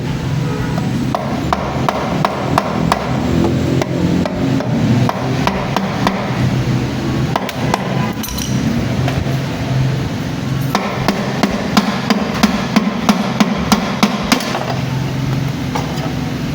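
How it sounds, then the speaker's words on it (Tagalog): A rubber mallet knocks repeatedly on Yamaha Aerox 155 CVT parts during a cleaning job, with sharp, irregular thuds and taps close up, some in quick clusters and some spaced apart. "Gumamit lang ako dito ng rubber mallet."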